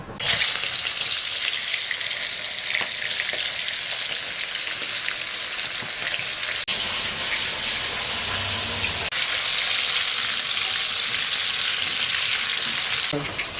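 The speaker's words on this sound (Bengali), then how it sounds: "মাছগুলো ভেজে নেব" Snakehead fish frying in hot oil in a wok, a steady loud sizzle and crackle running the whole time with faint scraping, no voices.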